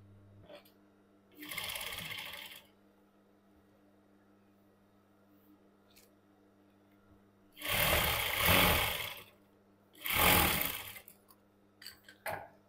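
A sewing machine topstitches cigarette pants in three separate bursts, one short and two longer, near and fairly loud over a quiet room hum.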